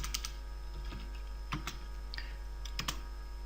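Keystrokes on a computer keyboard while a command is typed into a CMD terminal, a few separate clicks and short bursts spread over a steady electrical hum, close and fairly quiet.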